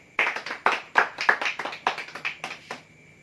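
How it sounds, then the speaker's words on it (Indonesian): Students in a classroom clap for each group after a presentation. The clapping is sparse and uneven, roughly a dozen distinct claps with gaps between them, close by and fading toward the end. "mari kita beri tepuk tangan untuk masing-masing kelompok"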